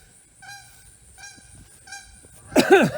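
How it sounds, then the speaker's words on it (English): Geese honking as a flock flies over, a run of distinct nasal calls in three bursts, moderately near, followed by a louder, rougher burst of close noise at the end. "Of course, some geese are flying over."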